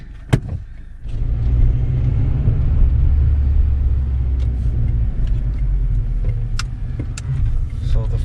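A high-mileage Acura TSX with an Injen cold air intake rumbles as its engine revs, a deep, sustained roar building after a sharp initial knock, with clicks and rattles over the drone.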